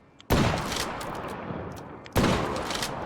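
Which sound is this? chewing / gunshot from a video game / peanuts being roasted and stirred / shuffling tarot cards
gunshot from a video game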